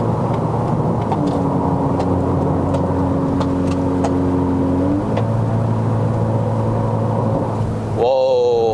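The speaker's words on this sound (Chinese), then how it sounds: "我们来试一下过一个大弯。 哇，他一直想降档。" A Mazda 3 2.0L liftback engine hums and whirs steadily from inside the cabin while taking a big bend, pitch shifting as it downshifts, with people talking over it.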